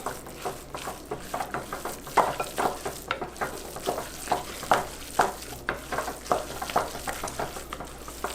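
Gefilte fish mixture is mixed with chopped onion in a steady, rhythmic series of soft, wet stirring strokes, close and moderately quiet, with no talking.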